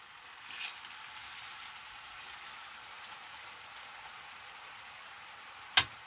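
Beef ribs (galbi) in marinade sizzle on a grill with a soft, steady, fairly faint hiss and crackle that continues evenly throughout, broken near the end by one sharp click.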